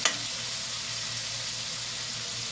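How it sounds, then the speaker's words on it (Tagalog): Crab goes into a frying pan for ginataang sitaw (string beans in coconut milk) and meets a loud, steady, close sizzle that hisses evenly throughout, with no talking. "So ilagay ko na yung alimasag."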